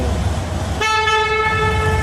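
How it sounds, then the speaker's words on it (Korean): A Harley-Davidson Ultra Limited motorcycle horn sounds abruptly partway through and holds steady to the end, loud and close, over a low idling engine rumble. "자, 크락션."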